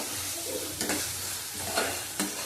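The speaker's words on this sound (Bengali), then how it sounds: "টমেটোর পেস্টটা দিয়ে দিলাম, ভালো করে কষিয়ে নিতে হবে।" Tomato paste and prawns being stir-fried in a pan, with a soft continuous sizzle and a few distinct spatula scrapes and stirs, close and fairly quiet.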